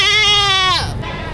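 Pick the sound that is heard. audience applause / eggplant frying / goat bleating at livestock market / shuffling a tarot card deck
goat bleating at livestock market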